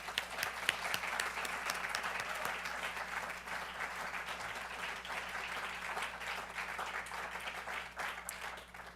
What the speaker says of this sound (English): Let's have a round of applause for our team.